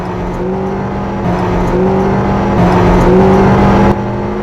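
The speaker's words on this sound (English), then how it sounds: "I'm going to downshift really quick." A 2012 Acura TSX sedan's engine drones steadily, its pitch stepping and rising in short surges as it revs during a downshift from top gear, loud and close throughout.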